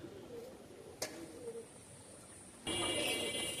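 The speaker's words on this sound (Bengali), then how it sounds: "নর কবুতর আছে সাইডে, পার পিস নর 1500 টাকা করে পিস।" Male pigeons kept for sale at a pigeon market coo softly and intermittently, with a sharp click near the start and a steady hiss rising toward the end.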